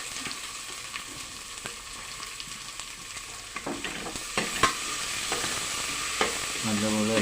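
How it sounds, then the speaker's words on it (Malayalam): Chopped onion fries in oil for masala dosa filling, a soft, continuous sizzle with scattered stirring clinks and scrapes that grow a little louder toward the end. "ഡ്രൈ ആയി വരുന്ന സമയത്ത് ഇതിലേക്ക് അരിഞ്ഞു വെച്ച ഉള്ളി ഇടും."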